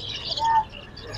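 Caged Java sparrows at the Mirpur 13 Bottola bird market in Dhaka give a brief chirp and a short whistled note, moderately loud against a market murmur.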